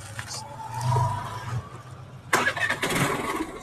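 A scooter with a reportedly seized engine is started after a service. A low cranking hum gives way to a louder, rougher mechanical burst as it catches, close by, with no talking.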